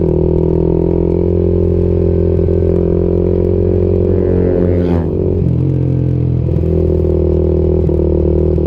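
A Suzuki Raider Fi 150cc motorcycle exhaust rumbles loudly up close with strong harmonic tones, then revs up and settles again midway through, a brief faint voice buried under the engine.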